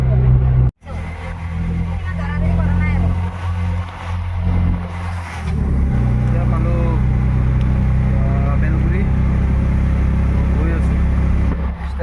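An auto-rickshaw engine drones steadily at close range after a brief cut near the start, on a drive toward a station in light rain, with faint voices mixed into the constant motor rumble.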